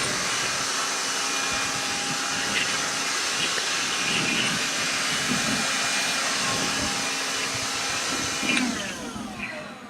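A Black & Decker Dust Buster handheld vacuum runs continuously at close range, a steady airy whine and rushing hiss that holds for about ten seconds before it begins to wind down at the end.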